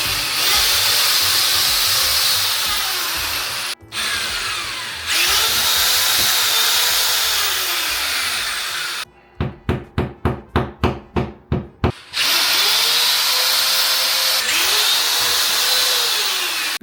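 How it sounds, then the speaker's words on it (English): A power drill bores holes into a wall to mount shelves in a game room. It whines loud and close in long sustained bursts with brief pauses, then switches to a rapid series of short, sharp hammering pulses before a final long run. "I marked the holes and we're gonna make holes and drill them in."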